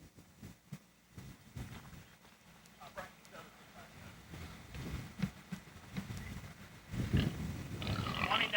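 Heavy-boned, thick-muscled sow grunting in a livestock sale setting, low intermittent grunts scattered through a noisy barn background that grows busier toward the end, with faint voices around.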